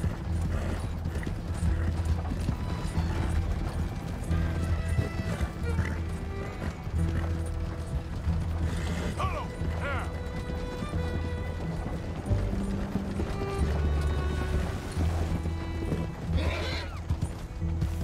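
Horse hooves gallop in steady clip-clop rhythm in Red Dead Redemption 2, loud and close, with a few whinnies and low rumbling game noise underneath throughout.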